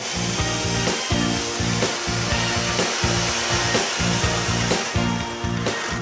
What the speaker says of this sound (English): Instead, you're cutting with a chainsaw.